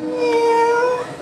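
A person imitates a newborn kitten with a long, drawn-out high meow that holds steady, then tapers off. It is close and loud.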